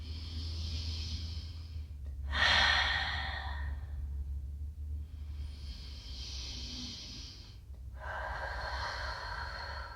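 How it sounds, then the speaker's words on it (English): Deep yoga breaths held in a seated forward fold: four long, airy inhales and exhales alternate in a slow, steady rhythm, close and clear over a low room hum, with no talking. "Big inhales here, big exhales."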